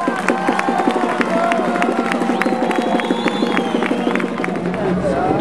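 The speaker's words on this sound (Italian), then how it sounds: "Facciamo un grande applauso a Riccardo" A crowd at an outdoor children's candelieri festival in Sassari claps and cheers for Riccardo, with dense, rapid rhythmic applause and scattered shouts sustained throughout.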